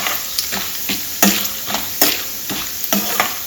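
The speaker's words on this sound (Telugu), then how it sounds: "కొంచెం ఆవాలు, జీలకర్ర వేస్తున్నాను." Mustard seeds and cumin fry in hot oil for a pulihora rice dish, with a steady sizzle crackling throughout and regular spoon scrapes and taps against the pan, close and fairly loud.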